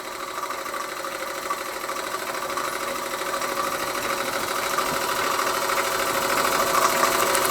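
A small Bing overtype model steam engine runs steadily up close, with a fast, even mechanical chugging and whirring that holds unchanged throughout, with no voices.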